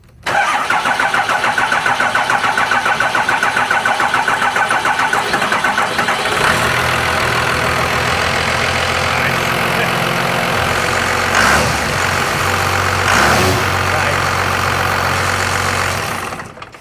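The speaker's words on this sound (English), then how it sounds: "We can finally fire this thing up" A 5.9L Cummins diesel swapped into an El Camino cranks and fires up, its loud rattling idle settling into a steady low rumble with a few revs near the end.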